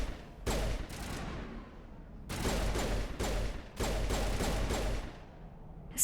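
Repeated pistol shots from the Mass Effect video game fire in loud, dense bursts, with two clusters of rapid shots separated by a short lull and no talking over them.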